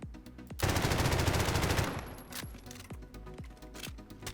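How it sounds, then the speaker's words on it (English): Rapid gunfire from Garry's Mod with a movement mod, a dense burst of automatic shots for over a second, then several spaced single reports with ringing tails, close and loud. "If we were to aim down sights and shoot"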